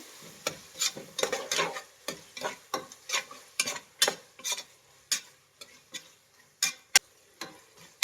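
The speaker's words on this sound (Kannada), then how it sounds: "ಇದು ಟೊಮೆಟೊ ಸಾಫ್ಟ್ ಆಗೋವರೆಗೂ ಫ್ರೈ ಮಾಡಬೇಕು" Two medium tomatoes frying in oil for biryani, stirred with a spatula in brisk rhythmic scrapes and taps over a quiet sizzle.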